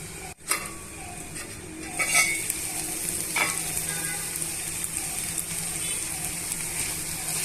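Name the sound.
ivy gourd masala frying in a pan until brown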